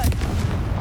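A single brief, bass-heavy blast from the Confringo spell in Hogwarts Legacy, a short loud boom that fades quickly.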